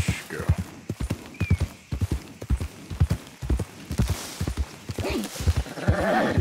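A horse's hooves clop in Red Dead Redemption 2, a close, loud, uneven run of thudding beats, with a brief whinny and a groan-like voice near the end.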